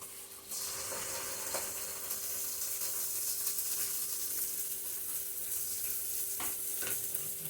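Mustard-poppy seed paste, spices and coconut paste frying in a pan for prawn malai curry, a steady loud sizzle with occasional stirring scrapes throughout, close up and without speech.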